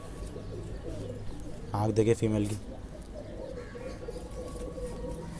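Kale chapdar pigeons coo in a loft, a low rolling burst of calls rising clearly for about a second amid steady background murmur, with someone talking nearby.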